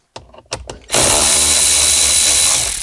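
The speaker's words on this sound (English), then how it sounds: "to gain access to the 12 volt, we're just going to remove these bolts here." A power drill backs out 10 mm bolts in a Toyota 4Runner dashboard, starting with a few short trigger bursts, then a loud, close, sustained whirring run that tapers at the end.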